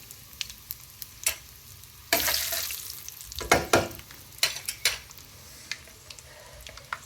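Hing (asafoetida) sizzling in hot oil in a pan for cabbage curry, a sudden loud hiss followed by scraping stirs and clinks of the spoon against the pan.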